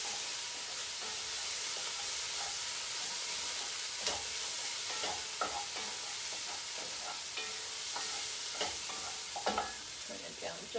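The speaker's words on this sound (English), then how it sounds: "Then I'll pause, give this a stir." Food sizzles steadily in a pot while cooking Somali digaag qumbe, with a spoon stirring through it and giving occasional scraping knocks over the constant frying hiss.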